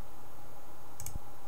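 A single quick mouse click lands on a download dialog against a quiet, steady background hum, a brief sharp tick near the end.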